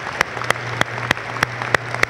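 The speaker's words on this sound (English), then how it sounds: "Please applaud the maintenance group" Steady, evenly spaced clapping, about three claps per second, over a constant low hum; a small group applauding in rhythm at an airlift wing change of command ceremony.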